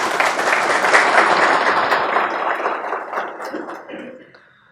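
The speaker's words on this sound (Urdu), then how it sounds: "آپ سب کے لیے، پوری پیلیکن فیملی کے لیے ایک مرتبہ تالیاں" An indoor audience at a corporate talk breaks into dense, loud clapping that holds for a few seconds and then gradually fades away.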